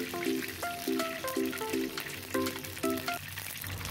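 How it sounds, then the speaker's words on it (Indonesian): Shallots frying in hot oil give a steady, dense sizzle that runs throughout, with light clinks of a utensil over it and no talking. "Lanjut aku goreng bawang merah, goreng sampai matang dan kering."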